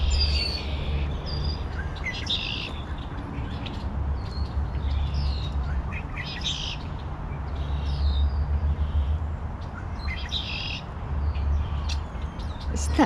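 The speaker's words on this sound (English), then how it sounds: "you probably can hear the wildlife, the birds." Birds call and chirp in repeated bursts outdoors in Corktown Common park in Toronto over a steady low rumble, with occasional harsh caws among the songs.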